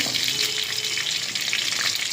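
Steady, dense crackling sizzle of mustard seeds frying in hot oil, continuous and close, with no voices.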